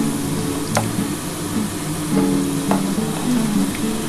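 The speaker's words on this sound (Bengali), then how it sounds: "আমার কিন্তু আলুটা লাল লাল করে ভাজা হয়ে এসছে" Potatoes fry in oil in a pan while a Bengali dhokar dalna is cooked, giving a steady close sizzle with a few light stirring knocks.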